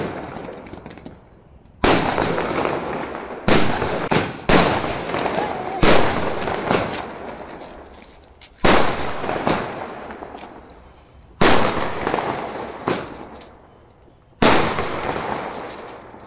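Firecrackers going off at a birthday celebration: a series of about eight sharp, loud bangs a second or two apart, each with a crackling tail that fades before the next blast.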